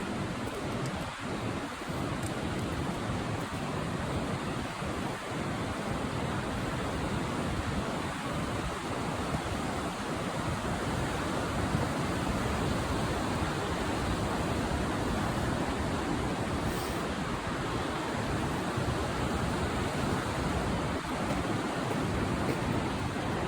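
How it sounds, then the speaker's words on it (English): Fast-moving river water and waterfalls roar in a steady, dense rush from nearby, unbroken for the whole stretch with no voices over it, along the Dosewalips river in winter. "I see some fast moving water and falls coming up here."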